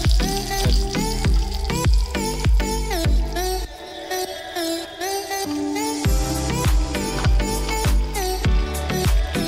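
Chicken frying in a pan for a stew sizzles loudly and steadily, broken by repeated sharp crackles and pops, with no talking.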